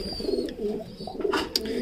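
Black Lahori fancy pigeons coo at a pigeon farm in Rajshahi, with soft repeated throaty coos heard up close in short pulses and a couple of faint higher chirps among them.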